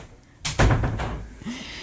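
A door shuts nearby with a loud thud and a short rattle, then a quieter knock follows in an indoor room.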